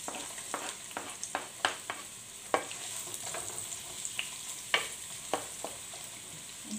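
Onions sauté in hot oil with a steady, soft sizzle throughout, broken by scattered light clicks and scrapes from stirring, with no voices.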